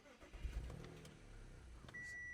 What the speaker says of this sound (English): it is a 286 brake horsepower, 3-litre petrol engine this, a beautiful engine.